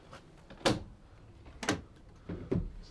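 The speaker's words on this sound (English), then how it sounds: "Twin solid rear doors." The twin solid rear doors of a 2016 Ford Transit Custom van clunk and creak open in a few separate bursts, close by, with quiet gaps between the latch clicks and hinge movements.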